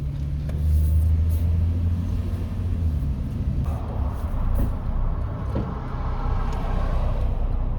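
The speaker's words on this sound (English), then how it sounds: "All right, we're gonna go back on the road." A 2006 Chevy Trailblazer on the road, heard from inside the cabin as a steady, low engine and tire rumble that stays even throughout, with no talking.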